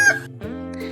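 A rooster crows from a fence as the first farm animal to perform, a single close, loud harmonic call that breaks off briefly and then resumes in a sustained, tonal second phrase.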